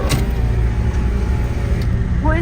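A bus rumbles past at a music festival, a steady, loud engine drone with road noise throughout and a brief higher whine near the end.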